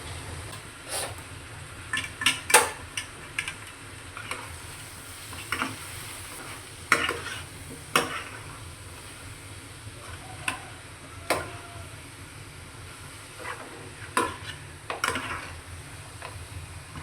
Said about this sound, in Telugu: ఉల్లిపాయలు అయితే అయిపోయింది, అయిపోయి ఇప్పుడైతే మాంసం వేస్తున్నాను.